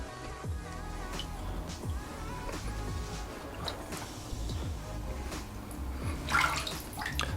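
A Vessi waterproof shoe is pushed fully under water, giving soft sloshing and bubbling splashes with a brief louder gurgle near the end, close and continuous with no talk.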